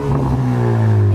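A 2018 Ford Mustang EcoBoost with its muffler and resonator deleted for a straight-pipe exhaust revs loudly up close, a single raw, droning rev rising in pitch.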